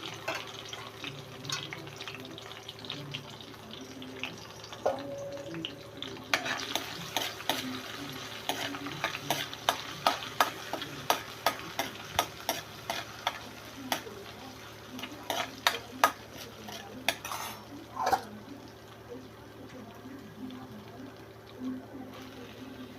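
Ginger and green chilies fry in a hot tempering of mustard and cumin seeds, a quiet steady sizzle broken by a run of sharp spatula scrapes and taps against the pan, fairly close.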